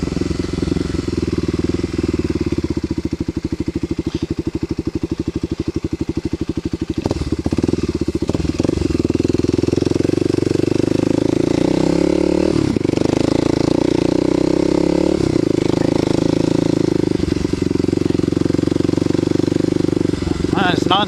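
A Kawasaki KLX250SF dual-sport motorcycle on a ride, its engine a continuous close drone with a rapid rattling pulse early on, then rising and falling as the throttle changes.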